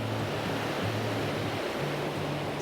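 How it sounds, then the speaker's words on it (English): Waterfall water pouring hard down a gorge at Baxter State Park in autumn, a steady, loud, close roar of rushing water with a faint low rumble underneath and no voices. "this water is hammering down this gorge"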